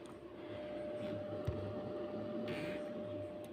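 Small cooling fan fitted to a drill press, running with a steady low whir and faint hum, alone and fairly quiet, with one brief click partway through.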